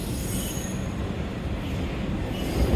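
A passenger or freight train rolls over a bridge overhead near Harpers Ferry, heard from below as a loud, continuous rumble with metallic wheel squeal and rail noise, swelling slightly toward the end, with no voices.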